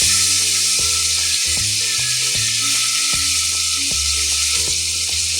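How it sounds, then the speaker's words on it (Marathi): Chopped onion and cumin sizzle steadily in oil and butter inside a cooker for pav bhaji, a loud continuous fry with a few soft stirring knocks. "कांदा छान लालसर भाजू द्यायचा"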